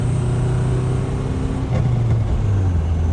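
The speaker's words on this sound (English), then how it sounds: "Turbo noises." A turbocharged Mercury Capri engine drones steadily while driving, with a low hum that shifts pitch midway as the car picks up speed, loud and close.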